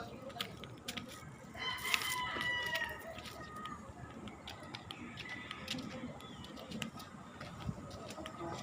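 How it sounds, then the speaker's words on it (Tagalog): A rooster crows once, fairly distant and faint, against a noisy outdoor background with light rustling and clucking around it, while someone speaks quietly nearby. "Ito. Dahil manok dito."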